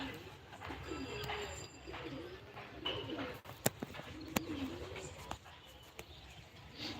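Pigeons being readied for a flying tournament coo in soft, repeated low phrases close by, with a few sharp clicks or taps and some quiet background noise.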